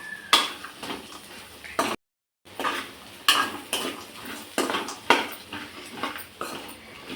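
Egg masala with ginger-garlic paste being stirred in a pan, repeated metallic scrapes and clinks of a spoon against the pan in an uneven rhythm, close and fairly loud, broken by a brief silent gap.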